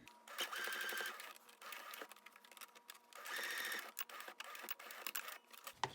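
A sewing machine runs steadily stitching a cotton surgical mask, its rapid mechanical whir rising and easing in two longer runs with brief pauses, close and alone.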